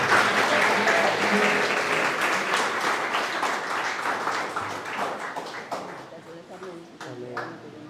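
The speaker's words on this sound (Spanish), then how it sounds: "Fuerte el aplauso" A congregation at Mass applauds, a loud burst of many hands that gradually thins and tapers off, with a few scattered claps and faint voices near the end.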